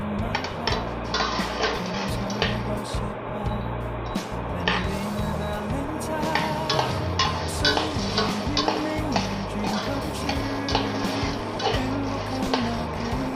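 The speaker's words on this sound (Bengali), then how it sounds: "এখন আমি সেগুলি শুকনো ভেজে নেব।" Rajma kidney beans dry roast in a pan, with a busy, close rattle of beans clicking and scraping against the metal as they are stirred, continuous throughout.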